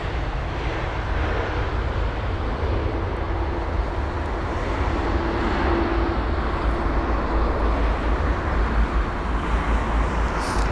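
An Airbus A220 comes in to land at London Heathrow on a windy day, its engine roar and rushing air forming a loud, steady broadband drone that holds through the whole stretch with no talk.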